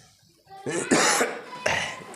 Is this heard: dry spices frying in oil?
no